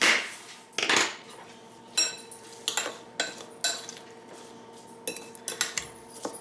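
A spoon clinks and scrapes against a bowl while mixing apple pie filling for a single-serving pie, with a series of sharp, close metallic knocks spaced irregularly and no talking.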